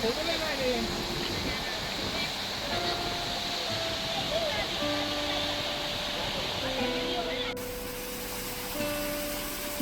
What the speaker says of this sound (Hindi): ये जो आप वाटरफॉल देख रहे हो ना, ये शैरोला लेक के ओवरफ्लो की वजह से बनता है